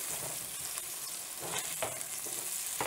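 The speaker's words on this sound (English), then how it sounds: "And as these andouille sausage cook" Andouille sausages fry in a pan with a steady, quiet sizzle and faint crackle, occasional soft scrapes of turning them, no voices.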